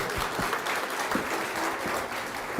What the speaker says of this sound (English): let's give the last round of applause to our guests